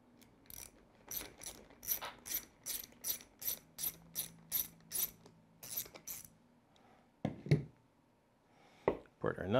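A hand tool ratchets in quick, evenly spaced clicking bursts while taking off the rear tire of an ARRMA Outcast RC car, close up, followed by a few louder metallic clunks and handling noises near the end.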